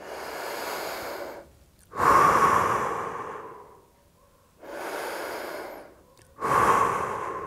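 Deep breaths are taken during a morning stretching exercise, with one arm pulled while stretching. Two slow, loud, close inhale-and-exhale cycles are heard, separated by brief quiet, with no speech.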